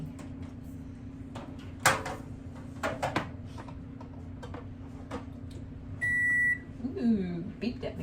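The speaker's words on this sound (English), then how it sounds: "Ooh, beeped at me." A new microwave oven's electronic beep sounds once, a clear steady tone lasting about half a second, amid a low hum, clicks and handling noises and a voice in the room.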